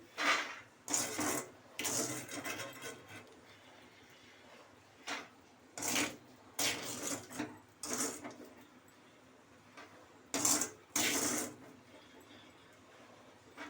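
Peanuts roasting in hot sand in a pan at home, stirred in bursts of gritty scraping and rustling, with sand trickling off, moderately close and fairly quiet, no talk.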